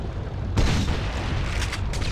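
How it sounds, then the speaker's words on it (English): Loud concussion grenade blast from a shotgun's secondary fire in Resistance 3, a sudden boom after a quieter start, followed by a sustained rumbling roar and further bursts. "I modified its secondary fire with longer-range concussion grenades"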